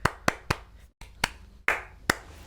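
Hand claps in a release-party stream setting, seven or so sharp separate claps at an uneven pace, some crisp and one broader and more muffled, close and alone with no talking.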